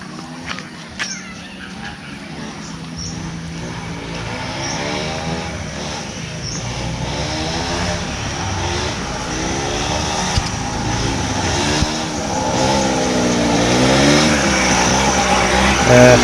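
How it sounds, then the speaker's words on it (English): Motorbikes ridden by staff arriving at a garden guesthouse in Nakhon Nayok, Thailand: a steady engine drone that rises gradually and comes closer, heard alone without talk. "A couple of staff there arriving on their motorbikes, coming to work"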